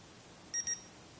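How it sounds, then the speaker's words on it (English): A Tri-Tronic dog training collar switching on gives two short, high electronic beeps in quick succession, close and clear over faint background hiss. "here we'll turn it on and you can hear the two beeps"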